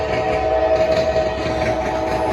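CSX freight train passing at close range by the tracks, a loud, steady rolling rumble with a sustained tonal drone throughout the brief stretch.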